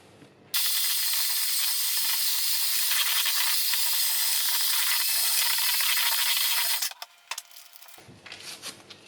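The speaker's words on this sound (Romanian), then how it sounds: "albușurile într-un vas mai încăpător și le batem în spumă" Electric mixer whisking egg whites into foam in a large bowl for traditional cozonac, a loud continuous high-pitched whir lasting several seconds before cutting off, followed by quieter clatter.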